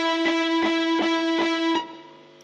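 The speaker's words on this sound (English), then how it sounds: "Where you can still tell there's reverb," A bright sustained tone pulsed in five rhythmic hits, then cut off with a short tail of reverberation fading quickly away.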